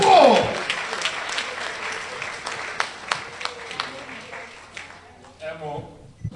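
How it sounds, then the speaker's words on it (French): Audience applause at an economic forum with Congolese and international entrepreneurs, steady clapping from a crowd that fades toward the end while a voice speaks over it. "On l'applaudit très fort."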